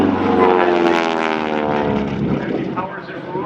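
A Texan SNJ-6 aerobatic airplane makes a loud, continuous propeller-engine rumble as it dives down an airshow line, staying strong throughout and fading slightly near the end.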